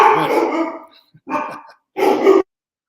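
A pet dog lets out a long growling bark, then two more sharp barks after short pauses, all loud and close with no one talking.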